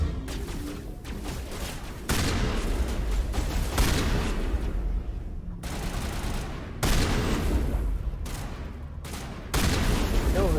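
Shotgun fire in Mass Effect 1, with loud broadband blasts striking at about 2, 4.5, 7 and 9.5 seconds over constant game rumble and combat noise.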